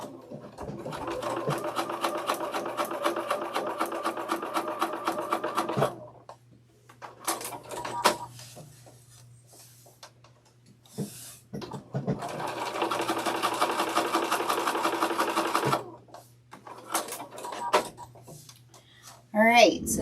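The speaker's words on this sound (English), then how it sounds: "now I'm just going to stitch these sides down so they stay in place" A sewing machine stitches down the sides of a blind-date sewing kit in two steady runs of rapid, even stitching, separated by a stretch of quieter handling noises and a voice speaking.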